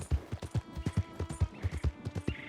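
Horse hooves clip-clop at a steady trotting rhythm in the video game Red Dead Redemption 2, a continuous string of close, moderately loud thuds with faint ambient sound behind.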